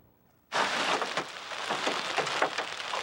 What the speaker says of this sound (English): a hailstorm pounding its way through Fort Worth today